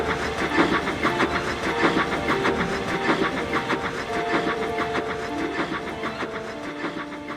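A steam engine chuffing in an even, rhythmic beat with rattling wheels, loud and close, alongside a faint sustained tonal hum, from a Thomas the Tank Engine story.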